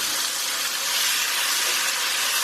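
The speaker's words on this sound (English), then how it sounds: "I'm going to add just a splash of water to create some steam for this to cook in" Steady broadband hiss of a splash of water steaming and sizzling in a hot pan of cabbage, lentils and tomatoes, constant and fairly loud throughout.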